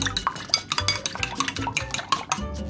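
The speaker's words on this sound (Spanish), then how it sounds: "vamos a agarrar un huevo, lo vamos a partir y lo vamos a batir así, de esta forma" A fork whisking an egg in a bowl for stuffed potatoes, giving quick irregular clinks and taps against the bowl in a steady stirring rhythm, close by and alone.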